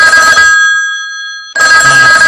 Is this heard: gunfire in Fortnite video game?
no